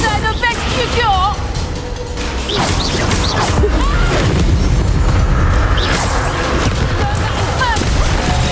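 Bombarda spell explosion in the video game Hogwarts Legacy, a heavy booming blast amid dense combat effects and crashes, with game voices speaking over the clamor.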